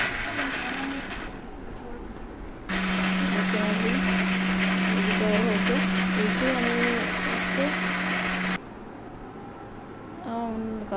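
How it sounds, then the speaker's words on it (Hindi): An electric kitchen grinder blends onion, garlic and green chilies, its motor roaring steadily for about six seconds with a low hum, before and after which a voice talks over quieter background sound. "प्याज को, लहसुन को, हरी मिर्चों को अच्छी तरह पीस लेना है।"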